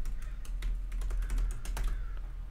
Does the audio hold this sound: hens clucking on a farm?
no